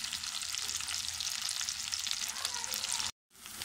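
Onions browning in a pan for turnip gravy give a steady, dense sizzle, close and fairly loud. The sizzle runs continuously, cuts out briefly near the end and then resumes. No one speaks.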